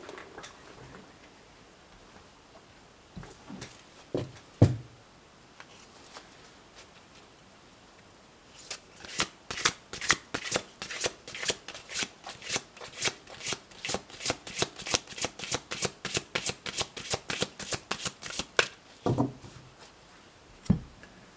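Oracle cards being shuffled by hand in a quiet room: a few scattered riffles at first, then a long run of quick, even flicks and slaps of card on card, fairly close and crisp with no talk over them.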